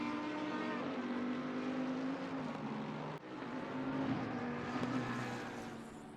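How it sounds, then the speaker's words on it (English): GT3 race car engines at Imola in the Assetto Corsa Competizione racing game give a steady, loud droning whine with a tonal hum. The roar dips briefly midway and then swells back up. "Some of the cameras are a bit closer to the track and you get some louder engine noises"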